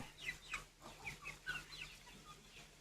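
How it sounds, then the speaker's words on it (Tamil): Guinea fowl call outdoors in the rain in a rapid series of harsh, raspy chirps, fairly close, with a steady low hum underneath and no talking. "கிண்ணி கோழிங்க மட்டும்தான் வெளியே இருக்குதுன்னு நினைக்கிறேன்"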